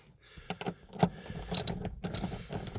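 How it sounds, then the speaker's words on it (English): A socket ratchet being turned and its direction switched gives a few close, crisp metallic clicks and short ratcheting bursts, quiet overall with no talking. "Let's just change the direction of my socket."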